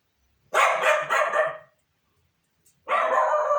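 A dog barks loudly and close in a home, a quick run of several sharp barks, then a pause before another bark begins.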